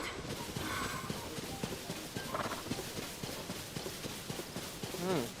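Wild horse hooves clip-clopping in Zelda: Tears of the Kingdom, a quick irregular patter of hoofbeats at moderate distance over game ambience, with a voice talking at times.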